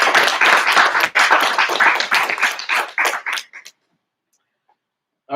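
Clapping at a graduation ceremony for a physical therapist assistant class, a close burst of dense applause lasting about three and a half seconds before cutting off into near silence.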